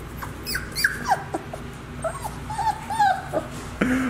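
Month-old Labrador puppies whimper and let out small yips and barks, a string of short high cries scattered across the moment, close by and fairly loud, with no talking.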